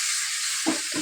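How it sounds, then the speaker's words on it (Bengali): Spices and fried potatoes are stirred in a hot pan for ghugni, giving a steady close sizzle with a couple of louder scraping stirs toward the end. "এবার মশলা দিয়ে কষানো হচ্ছে।"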